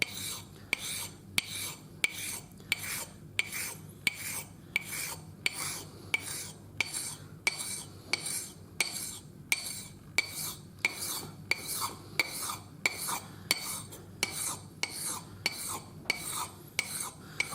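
A leather crew punch is sharpened by turning it against an abrasive, giving a quiet, regular series of scraping strokes with short clicks between each pass, close and unhurried.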